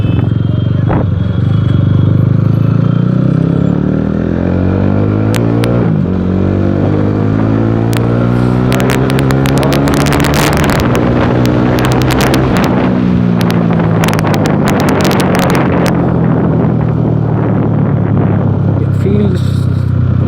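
A motorcycle engine rises and falls through gears while riding, loud and close, heavily buffeted by wind noise on the microphone, with a rider talking over it.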